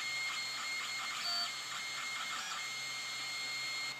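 3D printer running inside a COMGROW enclosure with the cover unzipped, giving a steady mechanical whir and high stepper-motor whine with small shifting tones, close and even throughout, with no talk.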